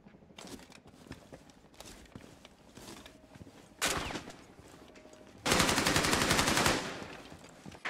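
Shotgun blasts from the game Rainbow Six Siege ring out, a few sharp single reports early on, then a loud sustained burst of rapid firing that dominates the final seconds, with faint background game noise between.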